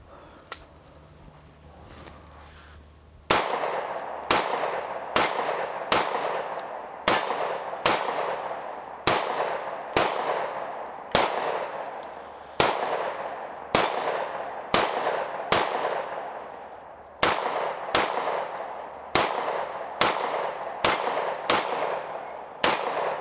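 Sig Sauer MPX Copperhead firing a steady string of about twenty sharp, loud shots at an even semi-automatic pace, each crack ringing briefly; a quiet stretch of low background noise comes before the first shot.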